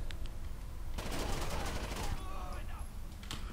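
Gunfire in the video game Rainbow Six Vegas 2: a dense burst of rapid shots swells then fades, with scattered single pops and faint game noise in the background.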